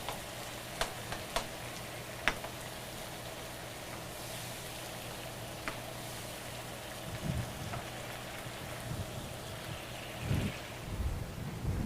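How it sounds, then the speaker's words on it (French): Mushrooms frying in a pan, a steady soft sizzle with scattered sharp pops and crackles, quiet and close with no talk. "On va mettre les champignons. On va cuire un peu."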